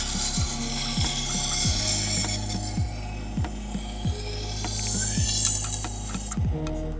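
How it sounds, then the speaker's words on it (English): A knife is drawn across a 1200 grit sharpening stone in a series of regular scraping strokes, roughly one every half second or so, close and moderately loud over a faint hum. "Now I'm switching to a 1200 grit stone, and we'll run it across there a few times"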